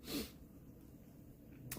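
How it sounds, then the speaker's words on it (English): A single quick sneeze at the start, close and fairly soft, then quiet room noise with a faint breath. "Sorry, that was a sneeze."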